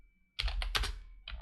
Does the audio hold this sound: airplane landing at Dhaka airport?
no